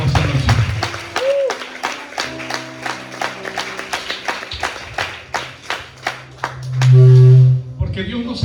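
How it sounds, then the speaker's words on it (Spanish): A church congregation claps in a steady rhythmic beat during an evening service, loud and close, with sustained music tones and a brief voice mixed in. "Denle una fuerte de palmas a Dios en esta hermosa noche."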